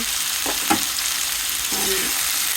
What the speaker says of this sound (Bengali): তেলে দিলাম, তেল দিয়ে ভাজি করবো, খালি ভাজি।